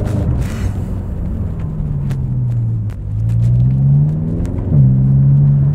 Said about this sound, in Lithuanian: stage 2 jau girdžiu turbinos košę